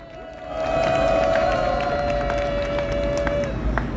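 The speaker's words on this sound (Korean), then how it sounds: "큰 박수로 맞이해 주십시오" A rally crowd in Daejeon welcoming a speaker with applause and cheering, a loud continuous roar of clapping and voices with a sustained tone running through it.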